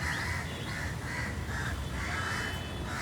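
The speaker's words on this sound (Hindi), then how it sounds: "कौओं की आवाज़ है।" Crows cawing outdoors, a steady series of harsh caws over dense background noise, loud and continuous without talk.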